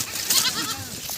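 Goats in a brinjal field give a brief bleat amid soft outdoor background noise, moderately near and fairly faint.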